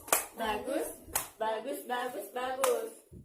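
Three spaced hand claps ring out close and sharp, with a voice talking in a sing-song tone between them in a classroom lesson.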